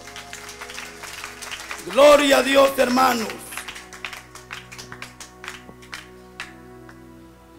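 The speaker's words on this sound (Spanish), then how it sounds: "Fíjate un aplauso" During a live church service, a voice calls out to the congregation, followed by scattered, uneven handclaps that rise briefly and then trail off into sparse individual claps.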